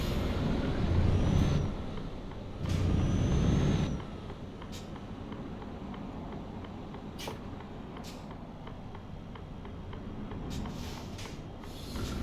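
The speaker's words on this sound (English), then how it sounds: "Sharp braking." A truck in Euro Truck Simulator 2 brakes sharply, giving two loud rushing bursts of air-brake hiss over a low engine rumble. After them the engine drones more quietly, with a few faint clicks and ticks.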